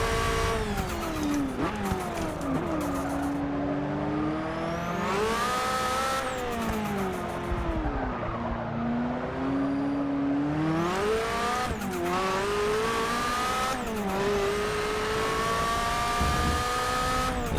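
A Nissan R91CP race car at Silverstone in Forza Motorsport 6 screams continuously up close, its engine pitch climbing and falling through gear shifts and corners, loud and steady for the whole lap with no voices.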